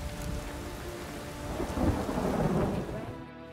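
Steady rain and rolling thunder in The Witcher 3 video game form a dense, continuous wash, with a low rumble swelling midway and fading, heard alone without any voices.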